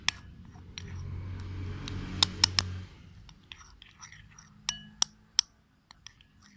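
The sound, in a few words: mixing butter and salt in a bowl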